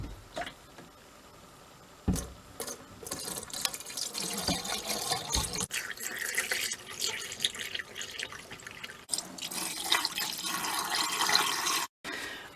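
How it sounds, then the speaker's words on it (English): Antifreeze is poured into RV sink drains, producing intermittent splashing and gurgling liquid bursts with brief pauses and handling clatter nearby. "we go around to every drain and just make sure we pour in enough that the antifreeze sits"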